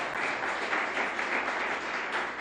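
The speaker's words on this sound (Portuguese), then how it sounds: "eu quero que você aplaude ao Senhor Jesus" A church congregation applauds, producing a dense, continuous wash of clapping that holds at an even level throughout.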